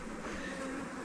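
Honey bees buzz around a beginner's Chinese-made flow-style beehive, a continuous soft hum of many wings, fairly faint and steady without any talk.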